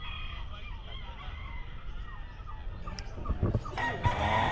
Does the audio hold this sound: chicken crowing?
yes